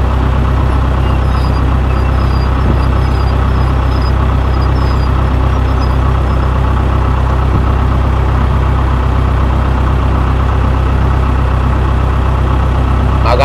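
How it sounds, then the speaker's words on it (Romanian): A small long-tail boat on Tonle Sap lake runs its motor steadily throughout, a loud, constant engine drone with a low rumbling hum and no pauses. "E și barca mică, are un motor și o țeavă lungă,"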